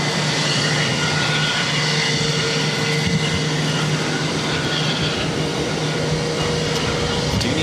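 Airplane engines at Boston Logan airport roar steadily as a loud, constant broadband drone with a low hum beneath, heard continuously without talk.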